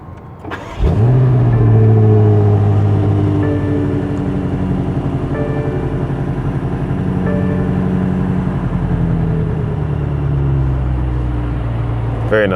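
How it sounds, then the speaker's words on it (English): A 2021 BMW X5 M Competition engine cranks and fires with a loud rising roar, then drops back into a steady, close, deep idle rumble that holds for about ten seconds. "hit the button, which is in the center console, to start the engine."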